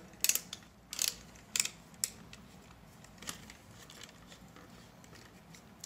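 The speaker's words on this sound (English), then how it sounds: "So there's a ratcheting headset." The ratcheting headband on a HoloLens 2 XR10 headset being adjusted, giving a few close, crisp plastic clicks in quick bursts, followed by fainter scattered ticks and a quiet background.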